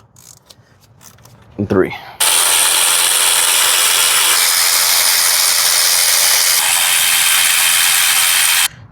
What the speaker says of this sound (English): Start breaking those bolts loose.